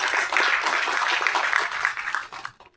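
An audience claps for producer Magesh at the Yolo movie audio launch, a dense burst of applause from a crowd that carries evenly for a couple of seconds before breaking off abruptly.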